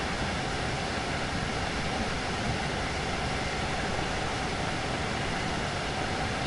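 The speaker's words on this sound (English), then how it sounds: "I'm just letting the train coast." A coasting train in Train Sim World 2 on the Finnentrop to Wuppertal route makes a constant, close rolling rumble with broad hiss. The sound is even and unchanging throughout, with no voices.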